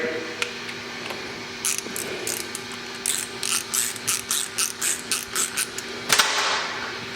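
A torque tool tightens M4 screws to 10 inch-pounds during an optics installation, with a run of close, crisp ratcheting clicks in a regular rhythm, then a sharper click near the end.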